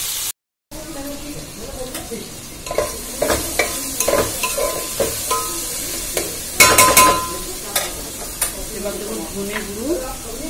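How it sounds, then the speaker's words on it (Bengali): Onions and tomatoes fry in a pan and are stirred repeatedly, with intermittent scraping strokes over a soft sizzle, close by, after a brief silent gap at the start. "দেখো আমার টমেটোটা গলে গেছে আর পেঁয়াজ পেঁয়াজ প্রায় ভাজা হচ্ছে।"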